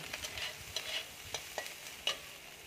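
Soya chunks frying in a pan with salt and turmeric, a faint, steady sizzle broken by several light scraping stirs at irregular intervals, close by with no voices.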